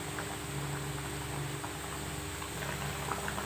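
A home-cooked dish bubbling in a pot on a gas stove as ghee goes in, making a continuous soft, even simmering hiss with low bubbling and no talking.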